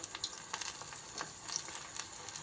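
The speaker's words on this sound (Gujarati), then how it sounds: "આપણે હવે પટ્ટી મરચાંના ભજીયા તળવાનું આ રીતે ચાલુ કરશું" Green chili pepper fritters (bhajiya) fry in very hot oil, a quiet bed of fizzing broken by scattered crisp crackles and pops, with no voices.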